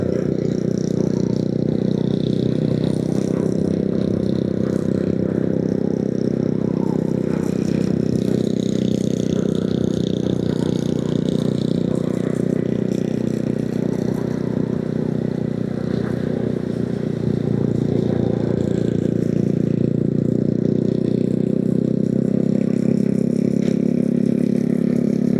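A motorcycle exhaust on a rural road near Berastagi in Karo, a steady, loud low engine drone that holds nearly unchanged throughout, with a slight rise in intensity toward the end.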